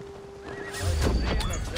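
Horses neigh and stamp in Assassin's Creed Valhalla, a whinny rising over a soft bed of game ambience, then heavy hoof clatter and snorting coming in loud and near in the second half.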